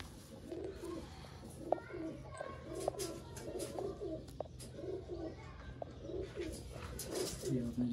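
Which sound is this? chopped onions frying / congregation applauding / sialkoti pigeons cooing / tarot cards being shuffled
sialkoti pigeons cooing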